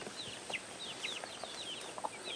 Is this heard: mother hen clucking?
yes